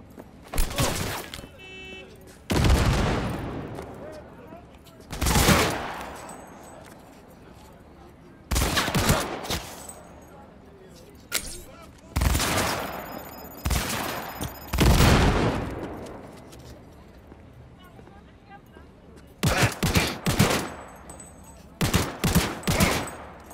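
Bursts of gunfire and grenade explosions from the Cyberpunk 2077 video game, played as a Nomad on Very Hard: loud repeated volleys and booms in irregular clusters. A voice talks intermittently over the combat.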